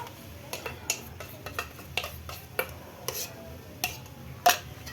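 Yogurt is stirred into a brinjal curry in a pan, with a spoon giving light, scattered taps and scrapes against the pan over a soft background hum. The sound is faint and close, with no talking.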